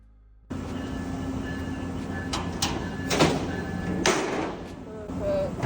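Train doors slide and thump amid a busy station hum, with a steady rumble and people talking nearby.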